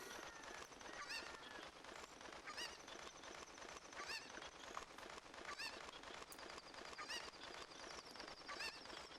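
Cucco chickens in the video game The Legend of Zelda: Ocarina of Time, clucking and honking in repeated squawks against a steady, busy game background, faint and evenly spaced throughout.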